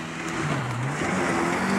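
A Ford Ranger pickup truck engine roars steadily while driving off-road, a loud, continuous rumble with rising and falling revs and no talk.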